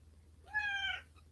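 A domestic cat gives a single clear meow lasting about half a second, close and alone against a quiet room with a faint low hum.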